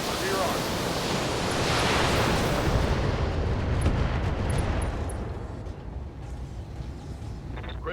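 Mech weapons fire in BattleTech: a broad, roaring wash of blasts swells over the first few seconds, then slowly subsides into a rumbling, noisy tail.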